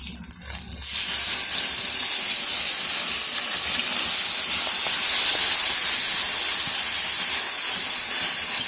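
Mustard and green chili paste hits hot oil in a pan of pointed gourd, bursting into a loud, sudden hissing sizzle that stays strong and steady to the end, with no talking.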